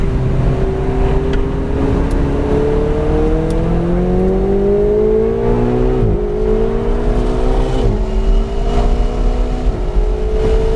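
A Ferrari 488 GTB on the NCM Motorsports Park race track, its engine droning loud and continuous with rising and falling pitch as the car accelerates, lifts and shifts through corners.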